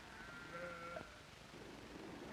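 Sheep bleating on grazing slopes of the Coast Ranges, a single drawn-out bleat heard faintly at a distance against a steady background hiss.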